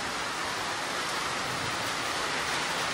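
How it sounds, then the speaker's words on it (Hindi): Steady rain falling on a village, a constant broadband hiss with no breaks, fairly soft and close. "मैं आप लोगों को दिखा देता हूँ थोड़ा सा बारिश।"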